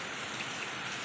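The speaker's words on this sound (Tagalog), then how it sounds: "Hindi naman masyadong malakas ang ulan pero goods pa rin ito para sa pagtanim ng durian." Light rain falls steadily on a rural planting site for durian trees, a soft continuous patter of drops with no voices, even and unbroken throughout.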